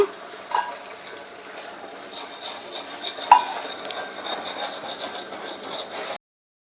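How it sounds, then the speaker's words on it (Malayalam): Papadam is fried and stirred in a pan of hot oil, giving a continuous crackling sizzle with scraping stir strokes and a sharp utensil clack near the middle. "ഇതാ ഇനി പപ്പടം കാച്ചു കൊടുക്കുകയാണേ ചിക്കി പൊരിക്കുകയാണേ"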